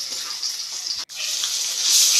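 Masala fries with onions in a kadai for a prawn curry, a steady close sizzle that breaks off for an instant and resumes, growing a little louder toward the end; no talking.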